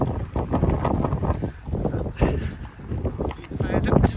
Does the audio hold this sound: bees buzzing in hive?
no